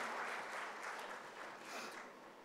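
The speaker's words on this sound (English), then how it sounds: "they deserve the biggest round of applause" An audience at a school Founder's Day celebration applauds the teachers, producing a steady, dense wash of many hands clapping, heard from a distance and fairly soft, with no voices over it.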